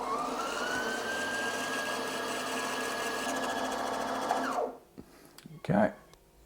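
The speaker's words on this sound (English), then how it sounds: "Go over to bobbin wind there, hit the go." A Singer EM9305 embroidery sewing machine winds a bobbin with a steady high motor whine lasting several seconds before it stops, followed by a few small clicks and handling noises.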